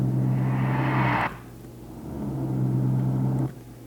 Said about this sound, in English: But what I also do is I add in the sound of the car.